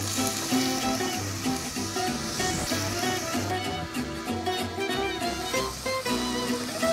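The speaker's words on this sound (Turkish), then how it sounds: "Bu soğanlarımı içine atıyorum." Onions fry in a pot as the base of a red pepper soup, a steady close sizzle with crackling and soft bubbling that continues evenly throughout, with no one talking.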